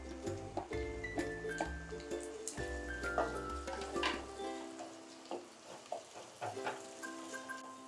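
Onion and tomato frying in a pan for Goan beef rolls, a soft sizzle with scraping and stirring clinks, close and fairly quiet, over a low background hum that cuts out midway.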